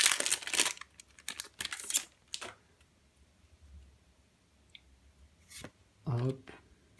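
A Yu-Gi-Oh booster pack from a special edition box being torn open, with sharp close crinkles of the foil wrapper in bursts, then a quieter gap and a final crumple, alongside a voice.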